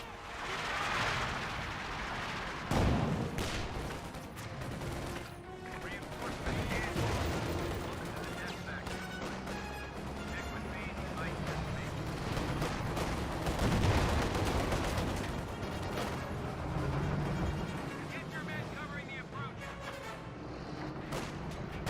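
Tank cannon fire and small-arms shots in a Company of Heroes 2 battle, with repeated booms and rattling gunfire at moderate distance under an excited commentator's continuous talk.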